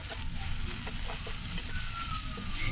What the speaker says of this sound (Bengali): এবার আদা রসুনের পেস্টটা আমি খুব ভালো করে পেঁয়াজের সাথে একটু ভেজে নেব